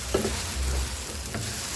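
A biko sticky rice mixture being stirred in a pan, with a soft sizzling, scraping stir heard close and steady through a short moment.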